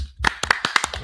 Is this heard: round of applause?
yes